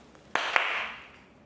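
Two sharp hand claps in quick succession to trigger clap-on garage lights, close and loud, each followed by a short ringing echo in the garage space.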